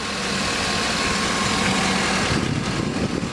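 A 2014 Chevy Tahoe PPV engine idles steadily nearby, a constant low rumble with a faint rattling texture.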